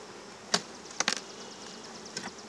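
Honey bees in a beehive box give a few brief, faint buzzes, short separate bursts against a quiet background.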